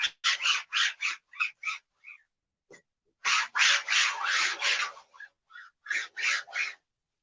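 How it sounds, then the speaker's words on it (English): Repeated rhythmic scrubbing strokes while grit from sanding is washed off a used painting canvas, close and fairly loud, in short bursts separated by brief pauses, no talk. "just wash this down. Get any of the grit that was on here from the sandpaper off."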